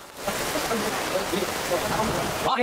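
Steady rain falls while walking around the grounds of Wat Pho temple in Bangkok, a continuous close hiss of drops on the surface throughout, with a brief louder patter at the end.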